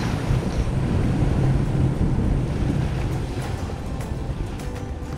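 A sailboat under sail heading west toward Wallis from Samoa, with a steady rush of wind buffeting the microphone over waves washing and sloshing against the hull, loud and continuous throughout.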